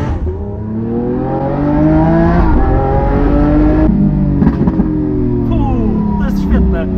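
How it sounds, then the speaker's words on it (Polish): Lamborghini Aventador S Roadster with its V12 engine, revving loud and close, the tone climbing and falling through steady harmonic sweeps, with someone talking over it. "Dźwięk tego silnika V12 jest po prostu kosmiczny."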